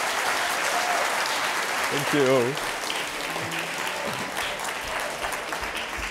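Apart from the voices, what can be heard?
audience applause at a lecture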